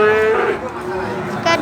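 A cow lows at a busy Javanese cattle market in Wirosari, among calves, bulls and Java, Limousin-cross and Simmental cattle; a sustained moo rises above crowd noise and chatter.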